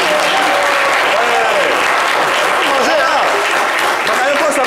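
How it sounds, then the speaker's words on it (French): Studio audience applause on a morning radio show fills the clip, loud and continuous for about five seconds, with a voice or two faintly mixed in. "Tu veux un peu d'applaudissements pour avoir du tonus dans ta voix"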